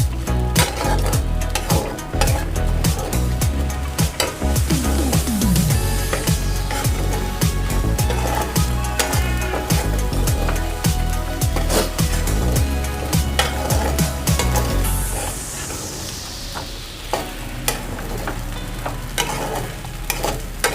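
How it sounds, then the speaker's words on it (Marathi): Sabudana khichdi sizzles in a hot pan while a spoon stirs and scrapes through it with repeated sharp clinks, then the cooking calms to a softer steady hiss as it steams. "मी खिचडी वाफवून घेते 1-2 मिनिटासाठी"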